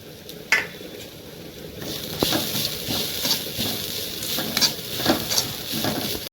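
Grated coconut and curry leaves fry in a pan for a Kerala-style chicken curry, a soft sizzle under repeated scraping and clinking of a stirring spoon against the pan.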